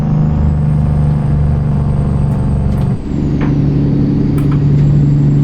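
Brakes are tapped on a Peterbilt truck hauling 40,000 lbs in American Truck Simulator, giving a brief air-brake release midway that dips the engine drone before it rises again and holds loud and steady.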